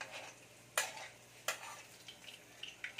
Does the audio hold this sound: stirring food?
yes